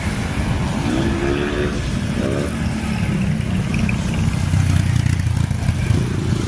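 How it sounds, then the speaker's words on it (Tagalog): A motorcycle passes nearby amid road traffic noise in Montalban, Rizal, its engine rising briefly in pitch before fading back into the steady rumble. "Grabe naman yun motor na yun, nakakatakot."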